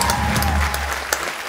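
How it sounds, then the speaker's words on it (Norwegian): Audience applause at a Norwegian school graduation revue show, steady clapping across the whole stretch with a low stage hum underneath. "Stor applaus."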